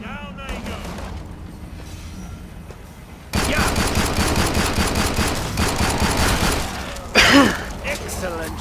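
Sustained automatic gunfire in the co-op shooter Killing Floor 2 erupts after a quieter stretch, loud dense bursts with a sharper blast near the end, with people talking alongside.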